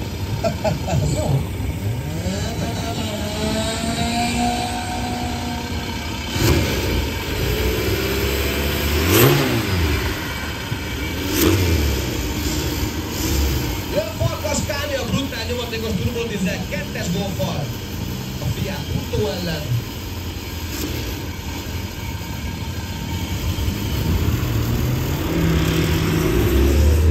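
Two turbodiesel hatchbacks, a Fiat Punto 1.9 JTD and a VW Golf 1.9 TDI, rev and accelerate at a quarter-mile drag race, loud engine drone rising in pitch through repeated gear pulls, with crowd voices and announcer talk underneath.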